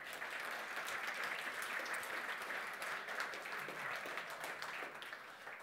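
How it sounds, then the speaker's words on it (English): A conference audience applauds its sponsors at a finalist presentation event, a sustained dense crowd clapping heard from a distance at low level, steady throughout and tapering slightly at the end. "can we have a round of applause for our sponsors?"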